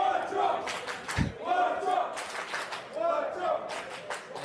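Crowd at a poker tournament final table, the PSC Barcelona Main Event, clapping and chanting together in a steady rhythm, loud and close, with a deep thump partway through and voices mixed in.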